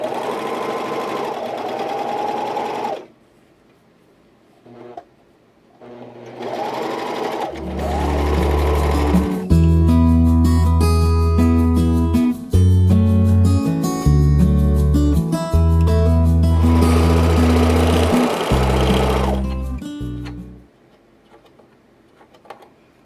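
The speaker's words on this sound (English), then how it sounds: "Not used to where the cutter is on this serger yet." A serger stitching and trimming a fabric edge on a top, running in bursts of fast rhythmic mechanical chatter with pauses and quieter gaps between seams, close and loud.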